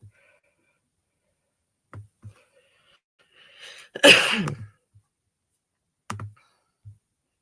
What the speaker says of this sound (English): Smoker's cough, I guess that's what I have.